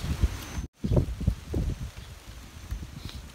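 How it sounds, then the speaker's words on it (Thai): Strong wind gusts through a vegetable garden on a rainy day, buffeting in uneven low rumbles and rustling bursts that come and go close to the listener. "วันนี้ลมค่อนข้างจะแรงเหมือนกันนะ"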